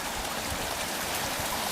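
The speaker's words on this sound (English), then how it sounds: "where this runoff from Gloucester Drive is joining up with what comes from the escarpment" Runoff water from a road drain flows through an eroded creek ravine with steep walls, a steady broadband rush that stays loud and close throughout, with no voices.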